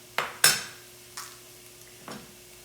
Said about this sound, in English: Just watch your fingers here and really cut down into the squash.